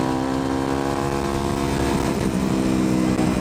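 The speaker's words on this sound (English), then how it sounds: "But the exhaust on this sounds awesome." Exhaust of a dual-sport motorcycle, either a KLR 650 or a street-legal WR250F, heard while riding: a loud, continuous, close engine drone with a steady throaty tone and no talking.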